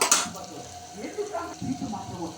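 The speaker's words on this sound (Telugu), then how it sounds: "కొంచెం పచ్చివాసన పోయే వరకు ఫ్రై చేసుకోవాలి" A pan sizzles softly and steadily with frying, with a brief clatter at the start and faint crackles throughout at close range.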